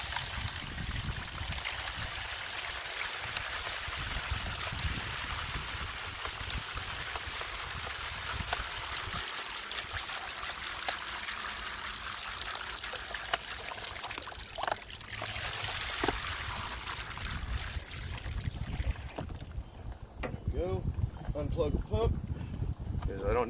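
Pay dirt swirling in a gold pan under flowing water, a steady broadband wash of water and gentle sloshing running throughout, with brief clatter toward the end and no talking.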